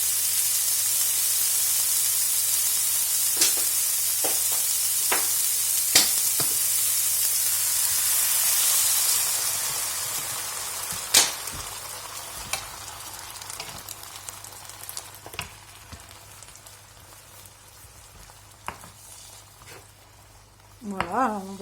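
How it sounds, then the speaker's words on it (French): Chorizo and peas bubble and sizzle in a pan with water and coarse salt, a steady hiss that gradually softens to a gentle simmer, dotted with occasional clinks of a utensil and light stirring. "on va le laisser mijoter quelque temps"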